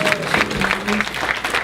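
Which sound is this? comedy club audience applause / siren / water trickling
comedy club audience applause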